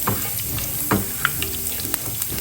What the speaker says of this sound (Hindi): इसमें 1 टेबल स्पून मैंने ज़ीरा डाला और इसको हल्का सा फ्राई करेंगे